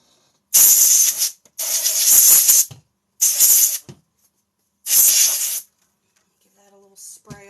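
Compressed air sprays in four sharp, loud hissing bursts to blow glitter out of an object, with short silences between them and a faint voice at the end.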